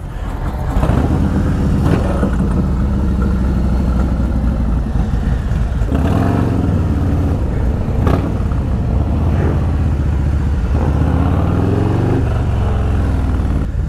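Harley-Davidson Stage 4 performance bagger motorcycle being ridden, its loud continuous engine rumble rising and falling with throttle changes, close and dominant throughout with no talking.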